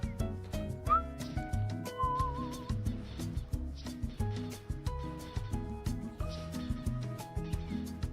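A person whistles loudly in short, wavering high notes over a backdrop of stepped, musical tones that pulse in a steady rhythm.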